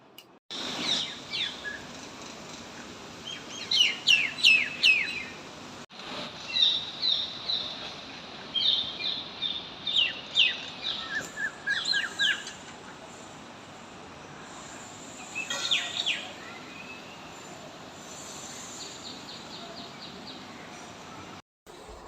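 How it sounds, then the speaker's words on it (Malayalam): Small birds chirp outdoors in quick, bright bursts of high twittering, moderately distant, over a faint insect-like hum, with the calls thinning out and falling quiet in the latter half. "ഞാൻ ആ കിളികൾ ചിലയ്ക്കുന്ന കേട്ടോണ്ട് പോയി വീഡിയോ എടുത്തതാ"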